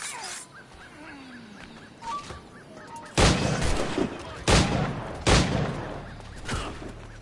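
Gunfire from sharpshooters in Assassin's Creed IV Black Flag: four loud, sharp broadband blasts spaced about a second apart in the second half, following a quieter stretch of birds chirping and faint ambience.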